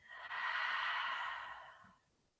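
A person doing a grounding yoga breathing exercise lets out one long, audible breath through the nose and mouth, a soft airy exhale lasting about a second and a half before fading to quiet.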